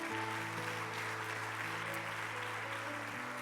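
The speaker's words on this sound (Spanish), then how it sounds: "¿Cuántos pueden darle un aplauso a Jesús?" Church congregation applauding during a sermon, a dense, even patter of many hands clapping throughout, with faint sustained tones of an instrument underneath.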